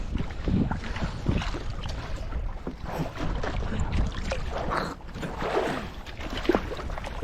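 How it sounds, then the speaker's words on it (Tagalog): Northeast monsoon wind blows at sea from a small boat, a loud continuous rush with gusty swells and buffeting over the hull and water. "Ihip ng amihan"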